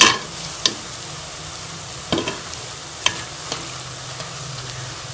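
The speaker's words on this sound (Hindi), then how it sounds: "तो ये हमारी ज़बरदस्त सी बूंदी जो है वो फ्राई हो रही है" Gram flour boondi deep-frying in hot oil, a close steady sizzle punctuated by several sharp clinks and scrapes of a utensil against the pan.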